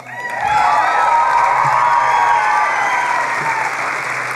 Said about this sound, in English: And maybe just a little more applause if you're kind of proud at this very moment.